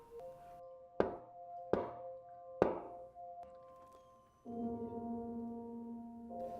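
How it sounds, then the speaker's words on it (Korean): Knocking on a motel room door in a Korean film scene: three distinct sharp knocks spaced roughly a second apart over a faint sustained tonal background, followed by a louder low ambient drone. "이때 누군가 문을 두드립니다."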